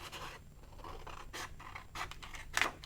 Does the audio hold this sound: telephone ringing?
no